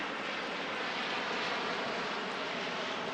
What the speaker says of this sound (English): We have a Navy fighter jet flying overhead.